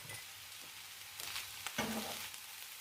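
Lamb mince frying in a skillet with salt and black pepper, a soft steady sizzle with a few scraping stirs of a spoon against the pan.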